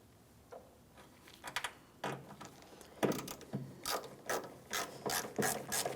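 Phillips head mounting screws being started by hand into a 2007-2014 GMC Sierra 2500 HD tailgate, a series of soft ratcheting clicks and short metallic turning bursts, close and quiet, with no talking.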